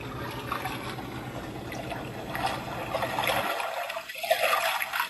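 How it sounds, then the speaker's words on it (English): An aquarium LED light kit's built-in speaker plays a stream sound effect, a soft steady trickle of running water that drops off near the end, leaving a few faint gurgles. "So you get like the watery kind of sound."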